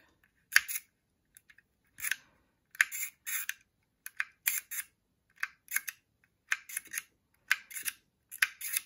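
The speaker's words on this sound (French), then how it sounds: "on va sur les ciseaux. Hop, donc on coupe" A label maker's built-in scissors mechanism cuts a label, giving a run of about a dozen sharp, close mechanical snips and clicks in an uneven rhythm, with no talking.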